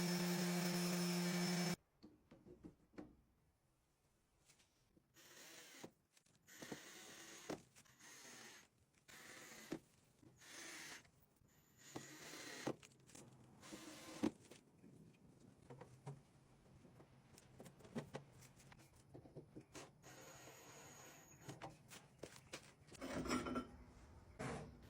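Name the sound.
sanding rust off metal screws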